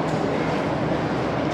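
A passenger train rumbles steadily nearby at Butterworth, a loud continuous roar of wheels and carriages with no pauses.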